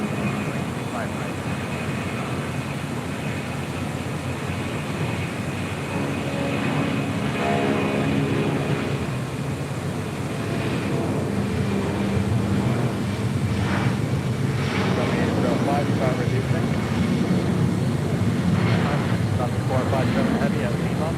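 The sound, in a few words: Lufthansa airliner taxiing across runway 25 right at LAX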